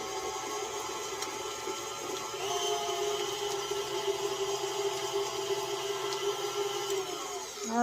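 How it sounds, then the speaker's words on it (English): A stand mixer with a whisk attachment beats butter for a chocolate cake, giving a steady whirring motor hum that carries on without a break and grows slightly fuller partway through. No one speaks. "I've got my whisk attachment on, and I'm just going to beat that butter up just a little bit"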